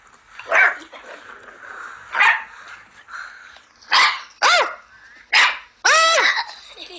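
A seven-week-old puppy barking close by, about seven sharp yips and barks spaced a second or so apart, some rising into higher squeaky whines, with quiet pauses between.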